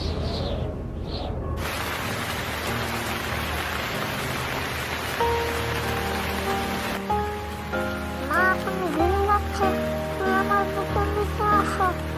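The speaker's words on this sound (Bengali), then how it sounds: "মুসলধারে বৃষ্টি হতে থাকে বনের সকল পশু প্রাণী ভিজতে থাকে" Heavy cartoon rain pours as a dense steady hiss, and soft tonal chimes and melodic sounds join in over the downpour partway through.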